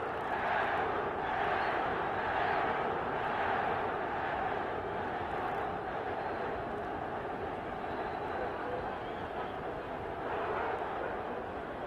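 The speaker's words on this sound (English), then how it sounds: "I guess you can hear the crowd whooping it up." Arena crowd at a boxing match between Roberto Duran and Esteban De Jesus, a steady loud roar of whooping and cheering that carries through the whole stretch without a break.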